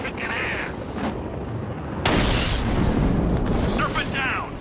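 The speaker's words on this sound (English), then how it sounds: "Be careful, the Bat's got a cannon on his car." In the video game Batman: Arkham Knight, the Batmobile's cannon fires in loud booming blasts with a sharp, heavy impact partway through, set amid game sounds and voices.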